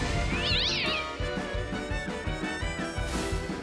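A cat meows in the card video game Gwent, a rising and falling cry at the start over loud, rhythmic game music that keeps going to the end.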